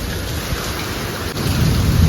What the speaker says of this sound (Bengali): শুরু হয়ে গেল বৃষ্টি